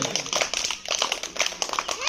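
A group of children claps in uneven bursts for a classmate during a primary school activity, with voices talking over the clapping.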